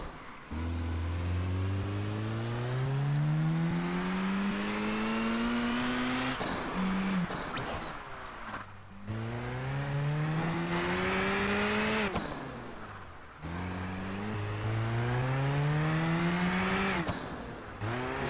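A racing car engine in the video game PGR 4 revs up through gears in three long rising sweeps, each ending in a shift or lift, loud and continuous with no talking.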